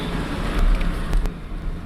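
Inside a shaking 2001 Ford Mustang 3.8 with a misfiring engine: a loud, rough, uneven low drone with bumps and surges, blended with road and wind noise.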